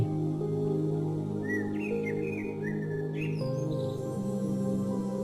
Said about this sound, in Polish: Posłuchaj śpiewu ptaków, które radośnie wyśpiewują swoją pieśń.